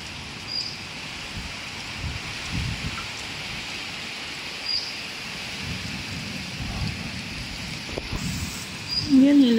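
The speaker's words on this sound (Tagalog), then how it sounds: "Grabe, lakas ng ulan." Heavy rain falls during flooding in Zhuhai, China, a steady dense patter and hiss with low rumbling gusts, fairly soft overall, and a voice briefly heard near the end.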